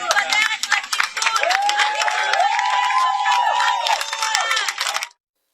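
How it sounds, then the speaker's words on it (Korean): A street crowd in Tel Aviv erupts at news of a ceasefire: loud, sustained cheering and shouting with scattered clapping and high whistles, a dense mass of voices that cuts off abruptly at the end. "양측의 휴전 합의 소식이 전해지자 환호성이 터져나왔습니다"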